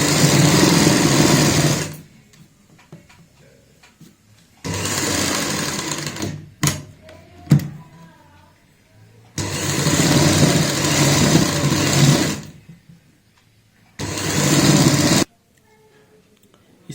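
A sewing machine stitches along a marked line on a palazzo bottom design, running in four loud, steady bursts of rapid whirring separated by short pauses with light handling noise.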